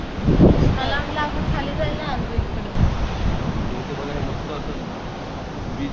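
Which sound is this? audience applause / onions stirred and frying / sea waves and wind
sea waves and wind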